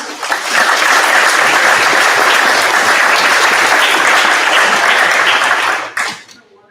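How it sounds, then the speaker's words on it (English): Sustained audience applause fills a high school hall of fame ceremony, dense and loud for about six seconds before tapering off quickly at the end. "Can we get a round of applause for him?"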